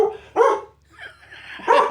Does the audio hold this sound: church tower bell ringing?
no